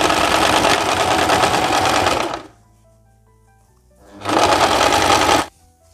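Sewing machine stitching two sleeve pieces together into a seam on a wrap blouse, running in two loud, steady bursts with a pause between them.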